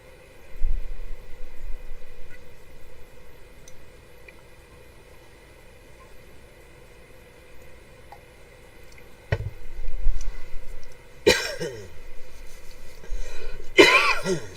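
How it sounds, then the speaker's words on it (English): A person coughs several times in short, sharp bursts over a quiet background, a little at a time, after taking allergy medication. "I just took my allergy meds and it always makes me cough a little."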